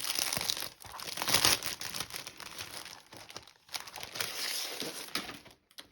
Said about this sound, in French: ça, c'est le papier vélum qui vient aussi de chez Craftelier